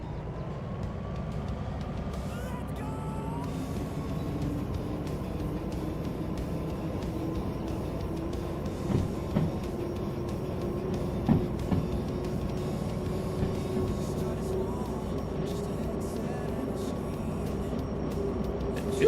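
A DH4 locomotive in a train video game rolls with a steady low mechanical drone and a sustained tonal hum, plus a few faint clanks, continuous and even throughout, with no talk.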